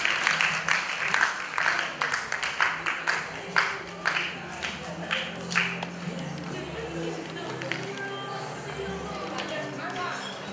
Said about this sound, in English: I want to applaud.